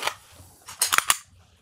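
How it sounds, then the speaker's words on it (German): Handgun being cocked during a shooting-basics training session, a few sharp metallic clicks and snaps in quick succession, close and fairly crisp against a quiet room. "Waffe nochmal in die Hand nehmen, spannen."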